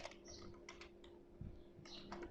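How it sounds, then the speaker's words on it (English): Bursts of keyboard typing on a computer, with clusters of keystrokes separated by short pauses and a steady electrical hum underneath; no voices. "I will type over here green tea"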